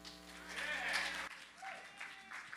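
An audience at a live poetry show applauds a poet, a short, fairly quiet round of clapping that swells and then drops off abruptly, followed by scattered faint claps and voices.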